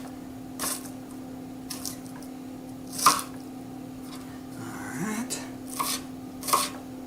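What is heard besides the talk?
knife chopping onion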